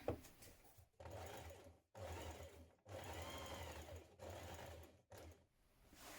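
A sewing machine runs in close, loud bursts while top stitching around the outer edge of a dress collar, with short pauses between runs and no talking.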